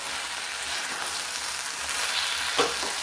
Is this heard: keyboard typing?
no